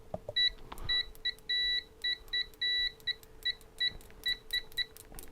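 A Venlab VM-200M digital multimeter's high-pitched continuity beep, sounding in a rapid irregular series of short and longer tones as the probes make and break contact, close up over faint background hum.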